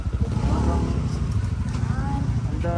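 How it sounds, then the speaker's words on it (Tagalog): A motorcycle engine runs steadily while the bike is ridden along a rough local road, a continuous low rumble filling the whole stretch with voices talking over it. "Mahirap magmotor dito."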